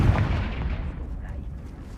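Confringo fire spell blasting in the Hogwarts Legacy video game, a loud booming impact at the start that rolls off into a rumbling tail, with game combat audio continuing underneath.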